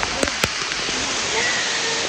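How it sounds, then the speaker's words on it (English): Dense, steady hiss of heavy rain pouring down close by in the Great Smoky Mountains, with a few sharp taps and knocks over it. "It is kind of a downpour."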